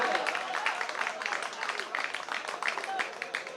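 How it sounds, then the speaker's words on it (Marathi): A crowd at a village kabaddi match breaks into dense, continuous clapping and applause that stays at the same level throughout, with voices mixed into it. "यशस्वी झाला तर टाळ्यांचा गजर"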